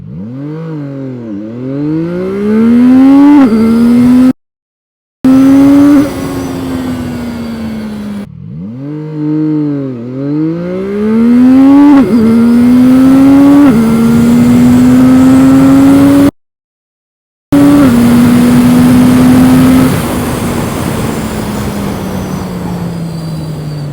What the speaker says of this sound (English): my acceleration from 0 to 100 kilometers per hour is like at about 4 seconds